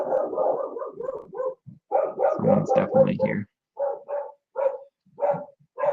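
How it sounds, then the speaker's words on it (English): Several house dogs bark and yip in quick bursts, loud and close, with short gaps between volleys, while someone indoors speaks briefly. "Damn dogs."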